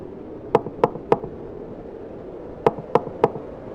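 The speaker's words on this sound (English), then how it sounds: "3 knocks answered." Two sets of three sharp knocks on a wooden door, evenly spaced, with a pause between the groups, standing out clearly over a low hiss in a horror story sound effect.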